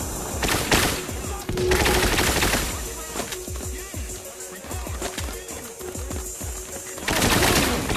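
Rapid bursts of gunfire in the Espire 1 video game, loud repeated shots and fusillades that sound almost continuously, with brief lulls between volleys.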